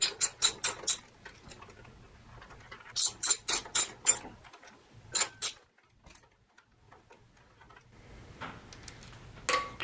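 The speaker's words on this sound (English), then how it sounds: "So we're just gonna use a 10mm and a ratchet." Ratchet with a 10mm socket working motorcycle handlebar clamp bolts loose, heard up close as quick bursts of rapid clicking separated by short pauses, with a last softer run of clicks at the end.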